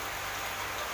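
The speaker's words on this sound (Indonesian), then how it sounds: "alhamdulillah hujan walaupun sedikit gerimis" Light drizzling rain falls steadily outdoors over a small durian tree planting, a dense, even hiss of fine drops close by with no voices.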